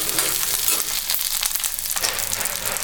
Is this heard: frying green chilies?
yes